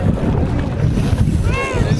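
Several boats move across Lake Saif ul Malook in the mountains, with a steady low engine and water rumble under wind buffeting the microphone and a brief whistling tone near the end.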